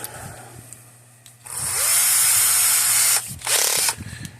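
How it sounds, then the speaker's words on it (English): A small power drill with a small bit whines at high speed through plastic in two bursts, a longer one then a shorter one, with quieter mechanical handling between them, on an old electric fence energizer. "by the time I drill through it"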